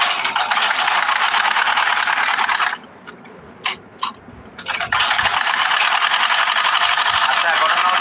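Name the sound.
sewing machine stitching trouser fabric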